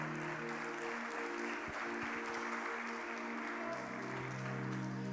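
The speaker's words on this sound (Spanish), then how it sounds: "Por eso es que denle el aplauso al Señor" Quiet, steady applause rises from a church congregation, a soft wash of many hands clapping together while faint tonal music or organ notes hum beneath it, with no one speaking.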